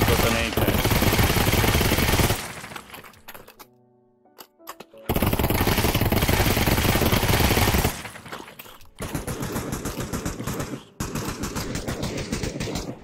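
Rapid AK rifle fire in the Pavlov co-op zombies mode crackles in loud sustained bursts, broken by a short near-silent gap, then resumes in two more dense volleys, with players' voices mixed faintly in.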